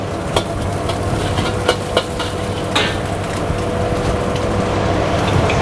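Water hits a hot wok of hard vegetables that were sautéed until smoky, giving a steady, close, loud sizzle with a few sharp metallic clanks.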